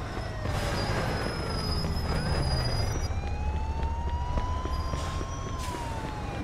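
Police car siren in the video game Mafia 2, a wailing tone rising and falling steadily across the clip over a low engine and street rumble, loud and continuous with no talk.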